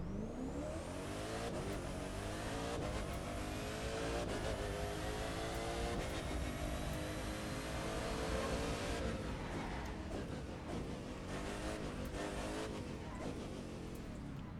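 A McLaren P1 drives in the racing game The Crew 2, its engine revving and climbing through gear changes in a continuous loud roar with some tire noise, no voices.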